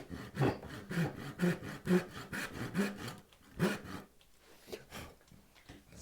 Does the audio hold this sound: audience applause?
no